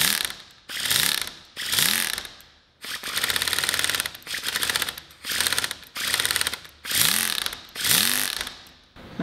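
A car distributor's mechanical advance mechanism spins on a test motor as its RPM rises, giving a loud, close ratcheting whir in repeated surges that start and stop roughly every second.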